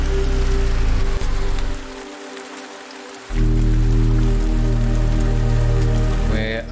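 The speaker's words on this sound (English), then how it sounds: "And of course it's raining." Steady rain pattering loudly in a video game, a continuous wash of droplets with a deep low rumble that briefly drops away mid-stretch before returning at full strength, no talk over it.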